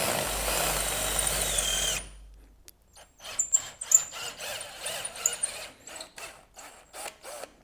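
A power drill bores out the threaded piece of a broken heater hose quick-connect coupler on an OBS GM truck's 6.5L turbo diesel, starting with a steady whine and then switching to uneven, choppy bursts of cutting.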